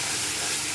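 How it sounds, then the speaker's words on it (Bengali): Brinjal, spinach and coriander are stirred in a hot pan, giving a brief, steady hiss of frying with a soft, even texture. "ভালো করে নাড়তে থাকবো।"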